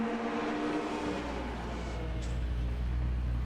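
A Super Touring race car in the Assetto Corsa racing game revs steadily, a loud, continuous engine drone that holds a strong low tone and stays close throughout.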